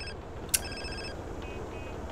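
A phone in the video game GTA San Andreas gives a sharp click followed by a brief electronic ring tone, heard once over a steady low background hum.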